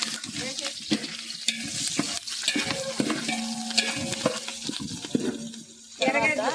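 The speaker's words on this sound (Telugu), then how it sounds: "నెక్స్ట్ పచ్చిమిర్చి వేసేసుకుందాం ఫ్రెండ్స్." Green chillies frying in a pan for prawn biryani cooked over a wood fire, a close, crackling sizzle with stirring and scraping clatter, and brief bursts of louder spitting.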